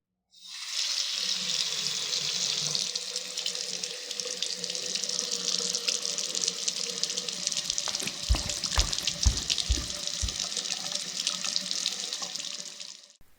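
Water gushes steadily from a tap or shower for over ten seconds, a constant hiss with a few splashing thuds near the end.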